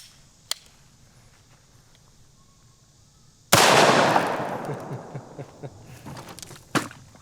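A single sharp blast of triple-aught buckshot from an HK P2A1 flare gun with a shotgun insert cracks loudly and decays over a couple of seconds, preceded by a faint earlier pop and followed by small knocks.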